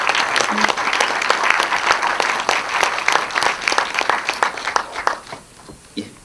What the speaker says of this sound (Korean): 박수로 잠깐 인사 부탁드리겠습니다.